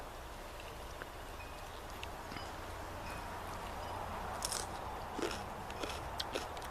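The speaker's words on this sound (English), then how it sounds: "Just excuse my munching." Steady crunchy munching and chewing of food close to the microphone during a midsummer vegetable garden tour, over a constant outdoor background hiss with no talking.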